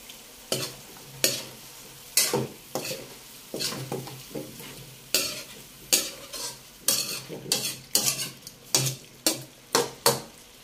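Carrots and potatoes stirred into a simmering chicken curry: repeated scraping and clattering strokes of a utensil against a pan over a soft sizzle, close and steady, with no talk.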